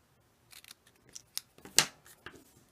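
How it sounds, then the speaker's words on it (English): Scissors snip through a cardboard toilet paper roll in a handful of short, crisp cuts, close and clear, with quiet gaps between and no talking. "I just cut up from the middle, or as close to the middle as I can possibly get, and then cut in from either side."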